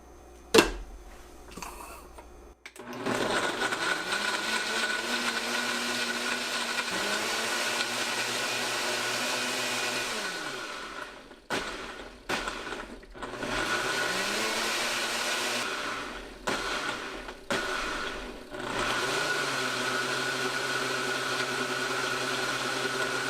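Breville BBL620 blender whirring through mango, pineapple juice and honey for a tropical smoothie, a loud steady motor drone broken by several brief pauses and restarts, with no talk.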